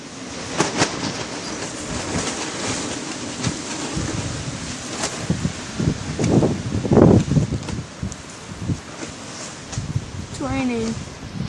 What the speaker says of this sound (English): There's some really big gusts of wind every now and then.